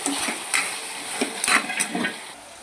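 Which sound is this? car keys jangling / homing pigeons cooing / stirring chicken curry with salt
stirring chicken curry with salt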